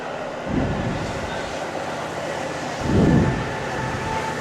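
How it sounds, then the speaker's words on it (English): A loud elevated train rumbling past a soccer field during an evening match in Chicago, a steady heavy roar with swells of noise from the passing cars, crowd noise underneath. "With a very loud, elevated train going by us."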